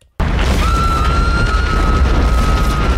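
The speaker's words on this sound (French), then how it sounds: "Grosse explosion derrière." A huge explosion from the film Armageddon bursts in suddenly after a moment of silence and rolls on as a loud, sustained roaring boom with a faint high tone over it.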